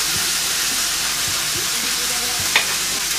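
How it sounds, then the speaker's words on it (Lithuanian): Loud, continuous sizzling of beef, onions and carrots frying together for lasagna, with scraping stir strokes breaking through the dense hiss every so often. "Taip pat jau svogūnai yra apkepę, dabar galim į juos sudėti morkas."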